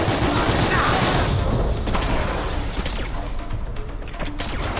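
Video game gunfire crackles in dense, continuous bursts with crashes and impacts throughout, loud and close, while a player mutters underneath.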